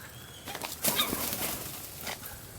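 Pigeons gathering as they are fed on Pangkor island, with soft wing flaps and scattered fluttering bursts against outdoor background noise, fairly close, no clear cooing.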